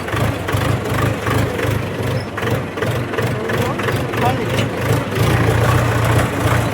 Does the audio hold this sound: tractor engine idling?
yes